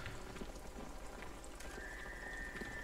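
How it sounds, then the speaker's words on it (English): Steady rain falls in the horror game Home Sweet Home, a faint continuous patter of drops with a thin tone rising partway through and no voices. "Oh, here it rains again."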